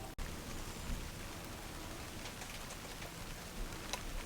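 Rain falls outdoors at a wooded property after a dead tree has been felled, a steady soft hiss of drops with a sharp knock at the start and no voices.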